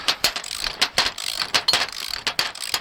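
A trailer jack being repaired ratchets in quick, loud, close clicks with an uneven rhythm, a dozen or so sharp pawl snaps in a row and no voices.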